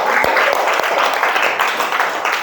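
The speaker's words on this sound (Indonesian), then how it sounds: "tepuk tangan untuk kita semua" A group of children and their teacher applaud together in a classroom after singing the head-shoulders-knees-and-toes song, a dense, steady patter of clapping.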